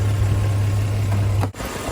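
A CM Regal car engine idles steadily after its idle speed has been raised about 100 revs, a constant low hum with a brief dip near the end.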